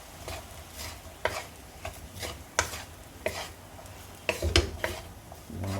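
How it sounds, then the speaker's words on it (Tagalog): Fried rice with wet sauce being stirred in a pan, with repeated scraping and clattering strokes in an irregular rhythm over a soft sizzle, close and moderately loud, no talking. "Halo na natin yung wet sauce. Lutuin natin yung bahagya."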